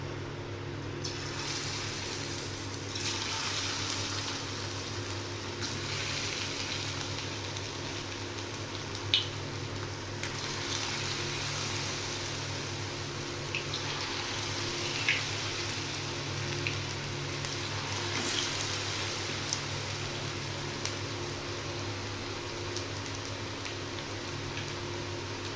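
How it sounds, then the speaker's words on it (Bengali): Chicken pieces deep frying in well-heated oil, spaced apart in the pan, giving a steady low hiss and crackle with occasional sharper pops, continuous and fairly quiet throughout with no talking. "তো এখন চিকেনগুলোকে ভেজে নেব ডিপ ফ্রাই করে।"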